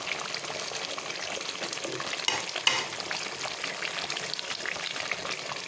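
Chicken koftas fry gently in a cooked spice masala, giving a soft continuous sizzle with light bubbling and a couple of brief utensil knocks, close but fairly quiet, with no voices.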